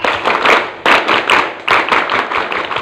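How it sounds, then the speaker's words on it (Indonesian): Students at a school scout camp perform the rhythmic tepuk pramuka scout clap: loud, close bursts of clapping in a patterned rhythm, repeated in three sharp groups. "Tepuk pramuka."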